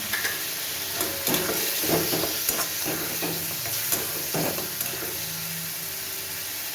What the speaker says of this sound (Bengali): লঙ্কা গুঁড়ো আর টমেটো গুঁড়ো এই সবগুলো দিয়ে এবার আমি ভালো করে তাকে কষাবো